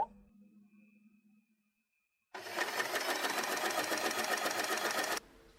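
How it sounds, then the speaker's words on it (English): A sewing machine stitches fabric for a hair bow, running in one steady, rapid mechanical burst of about three seconds after a brief quiet pause, close and fairly loud. "sew this part"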